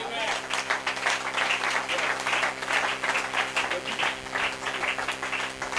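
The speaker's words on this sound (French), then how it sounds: "Donne-lui une main d'acclamation" A church congregation applauds during a French-language sermon, a dense, rhythmic patter of clapping held at a steady level, with voices sounding over and under the hands.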